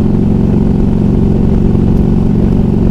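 A Harley-Davidson Ultra Classic motorcycle cruising on an open rural road, its engine a steady, loud, close low rumble with constant road and wind noise and no change in pace.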